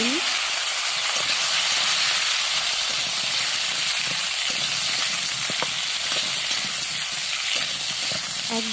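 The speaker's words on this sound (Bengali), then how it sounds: "এবার এই আলুগুলো যেমনভাবে ভেজে নিই।" Potato pieces fry in a wok of hot oil that was first tempered with dried red chili and fennel seeds, giving a steady, loud sizzle throughout with occasional crackles and faint stirring scrapes.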